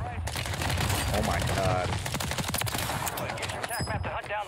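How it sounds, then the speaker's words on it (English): QR-45 tap-fire shots in Call of Duty Warzone on Rebirth Island, each pull firing two bullets, crackle in rapid irregular bursts throughout under loud game ambience while a person speaks over them. "The QR-45 is tap fire, but it shoots two bullets every time you shoot."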